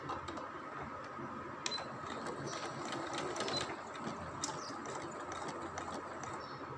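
A sewing machine stitches a seam on a salwar, a steady close whirring drone with faint ticking, running on alone without a pause.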